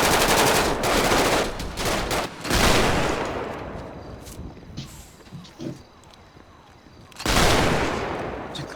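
Bursts of automatic gunfire in a South Korean server roleplay video game, loud rapid volleys opening the stretch, a few scattered shots through a quieter middle, then another heavy burst near the end.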